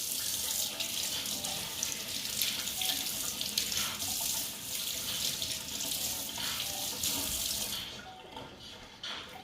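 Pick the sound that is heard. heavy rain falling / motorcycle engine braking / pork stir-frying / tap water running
tap water running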